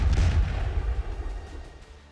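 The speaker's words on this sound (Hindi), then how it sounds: "नीचे जमीन पर भयंकर विस्फोट हुआ" A bomb dropped by parachute bursts on the ground in an attack on an enemy arms factory, producing one deep, heavy boom that rumbles loudly and then slowly fades, with no talk.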